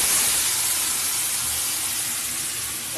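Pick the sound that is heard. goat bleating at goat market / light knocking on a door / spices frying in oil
spices frying in oil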